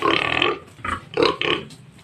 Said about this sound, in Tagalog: Ito yung inahing baboy.